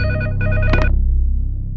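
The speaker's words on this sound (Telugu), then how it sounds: "పృథ్వీకి ఫోన్." A telephone rings in a Telugu movie scene, sounding two bursts of electronic trilling over a low musical background, the second ring cutting off abruptly.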